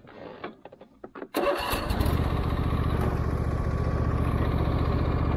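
A Husqvarna 46-inch riding lawn tractor engine cranks briefly with a few sputters, then catches and settles into a loud, steady running drone close by.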